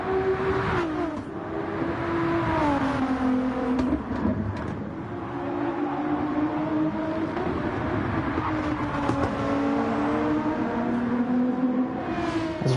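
Gr.3 race cars in a racing video game run nose to tail through Suzuka's S curves, their engines a steady, loud whine that rises and falls in pitch as they take each bend, with no pause throughout.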